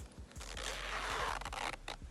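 A zipper on a handmade bag sewn from recycled t-shirts and denim is run along its track, giving a soft rasping zip with a few light clicks and knocks, close and fairly quiet.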